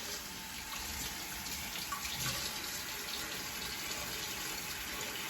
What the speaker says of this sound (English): we need to wash our hands.